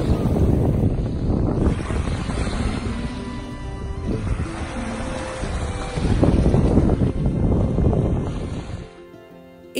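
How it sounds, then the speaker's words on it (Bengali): Sea wind and waves on the Gulf of Mexico shore near New Orleans, a loud continuous roar of gusting wind buffeting the microphone with surf washing underneath, no talking. "চারদিক নিস্তব্ধ, শুধু এক্সিস্ট করছে সমুদ্রের হাওয়া আর ঢেউয়ের আওয়াজ।"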